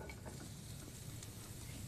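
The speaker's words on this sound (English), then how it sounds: "Hear that sizzle on the natural gas cooktop." Green peppers sizzle in olive oil in a pan on a natural gas cooktop, a steady close hiss and crackle that runs without pause and with no talk over it.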